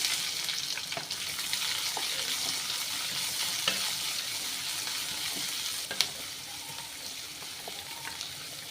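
Onions sizzle in a hot pan with a steady, even frying hiss, dotted with occasional light clicks and scrapes from stirring.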